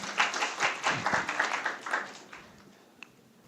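Audience applause for a presenter at an academic symposium, a dense burst of clapping that swells briefly and then thins out, ending with a few scattered claps and a single late tap.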